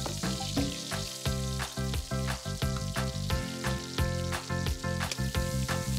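Onion frying in a pan gives a dense, steady sizzle with frequent soft stirring knocks, moderately close, and no one speaks over it; a strong pitched background hum sits underneath.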